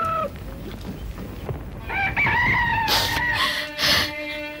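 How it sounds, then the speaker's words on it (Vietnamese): A rooster in a Vietnamese cải lương stage drama crows loudly and at length before dawn, one drawn-out crow rising over faint background rustle and rolling through the second half. "Gà gái canh hai rồi đó"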